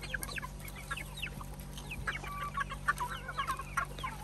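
A buff Polish chicken clucks repeatedly in short bursts, with several birds softly chattering nearby over a steady low background hum.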